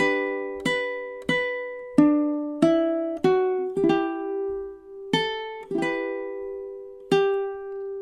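Single notes plucked on a ukulele ring out one at a time in a slow triple-time pattern for the Irish folk song The Black Velvet Band, each clear tone decaying before the next, with no voice.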